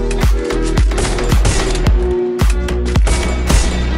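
Rapid gunfire from the Free Fire mobile shooting game, a series of sharp, loud repeated shots in quick bursts with regular spacing, filling the clip without any talk.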